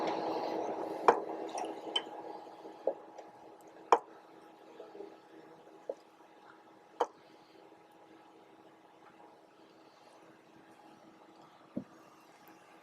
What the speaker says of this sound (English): So, let's get pouring.